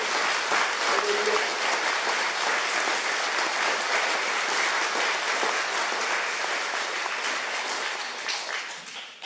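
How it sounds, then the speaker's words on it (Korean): A large church congregation claps loudly and steadily for about nine seconds at a pastor's installation service, the applause sustained and dense before tapering slightly at the end. "임하시는 박성규 목사님 그리고 취임하는 우리 최대감 목사님 힘찬 박수로 좀 권유해 주십니다."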